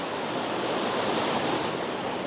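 Sea waves break on the rocky shore at Jumunjin during lure fishing for rockfish, a steady, loud surf roar mixed with wind buffeting the microphone.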